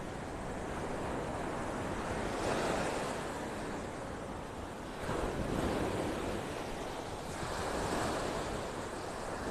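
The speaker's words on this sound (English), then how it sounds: "Those waves. Pound, pound, pound." Ocean surf rolls in at Vanderbilt Beach in North Naples, Florida, with repeated crashing swells, each wave building and receding under a constant wash of wind noise.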